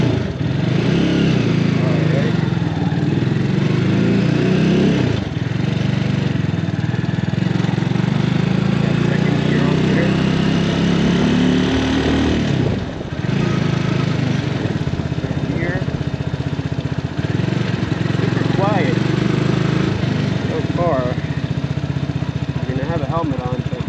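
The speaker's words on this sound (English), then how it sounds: "here we go on for the first ride on the X Pro X24" A new X-Pro X24 250cc street-legal motorcycle with zero miles runs steadily on its first ride, a continuous close engine drone with wind noise, plus occasional faint voice-like sounds.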